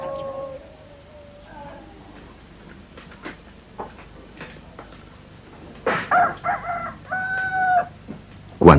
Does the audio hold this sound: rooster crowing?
yes